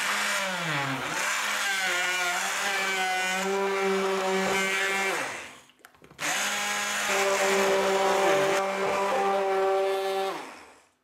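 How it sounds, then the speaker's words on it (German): A blender mixing an iced coffee milkshake makes a loud motorized whirring that runs steadily, pauses briefly, then starts again with a slightly higher pitch, close up and drowning out everything else. "Der macht alles im Mixer, schaltet ihn an und dann ist es schon fertig."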